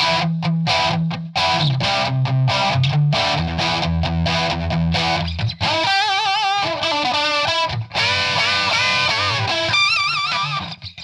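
A 50-euro electric guitar played through a VST Amp Rack distortion preset, loud and buzzing, with chugging chords and then sustained, bending lead notes, alone.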